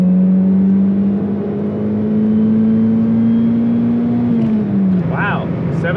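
An old beater car accelerates up a freeway on-ramp, its engine note rising steadily in pitch under load and then dropping as it shifts, with a voice over the cabin noise.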